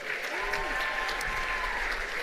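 An audience applauds ensemble musicians at a College of DuPage performance, a continuous moderate patter of clapping with a faint voice and low hum beneath.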